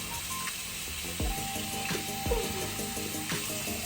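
Lukewarm water runs from a bathroom tap into a sink, a steady close hiss and splash with a few clinks and knocks, no talking over it.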